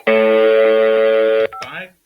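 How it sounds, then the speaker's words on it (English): A steady landline dial tone holds loud and unbroken for about a second and a half, then cuts off as a short burst of touch-tone dialing beeps begins, during a three-way call setup. "and we should hear a dial tone"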